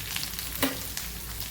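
Four or five shallots with curry leaves and a quarter spoon of black pepper fry in a pan for a green gram curry, giving a soft, even sizzle with one brief clink partway through.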